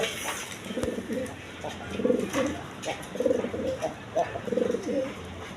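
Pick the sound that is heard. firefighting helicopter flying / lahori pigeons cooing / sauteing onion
lahori pigeons cooing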